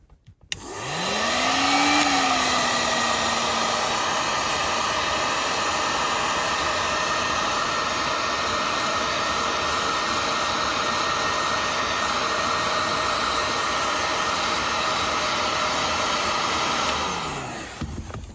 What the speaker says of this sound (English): So I'll just heat shrink that one